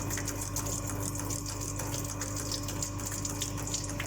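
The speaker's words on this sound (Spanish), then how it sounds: "Aquí tenemos funcionando un ariete hidráulico." A hydraulic ram pump built by school students runs with water, giving a continuous rushing and splashing wash over a steady mechanical hum, unbroken and fairly loud throughout.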